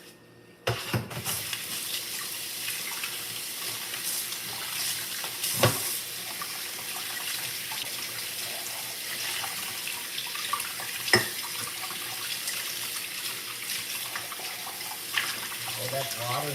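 Cold water runs steadily from a tap in a continuous broad hiss, with a few sharp knocks and splashes at intervals.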